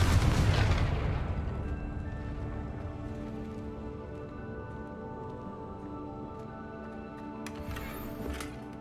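A Confringo blasting spell goes off in a Harry Potter video game as a loud, deep boom at the start, then fades into a long rumbling decay with light crackling debris.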